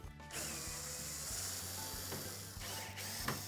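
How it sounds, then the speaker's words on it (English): A hand ratchet loosens retaining screws on a washing machine's front panel, a rapid close clicking run heard alone, interrupted by a few brief pauses and knocks. "remove these retaining screws across the top"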